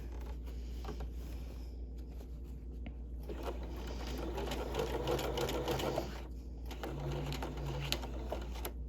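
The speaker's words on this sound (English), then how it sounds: "now I'm going to back stitch and finish" Sewing machine stitching a lining facing to a garment shell, with a steady low motor hum and rapid needle clatter running throughout, rising slightly in the middle before a brief pause and a short final run.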